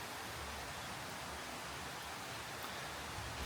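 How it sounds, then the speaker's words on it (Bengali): Steady morning rain falls outdoors, a dense even hiss with no distinct drops or gusts, heard fairly close and without voices. "সকাল 6টার থেকে এরকম বৃষ্টি শুরু হয়েছে, মানে একটা প্রশান্তিদায়ক বৃষ্টি।"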